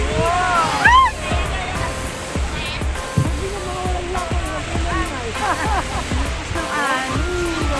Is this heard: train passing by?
no